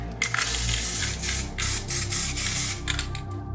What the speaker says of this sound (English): I'm going to, you know, kind of spray it all over, just like this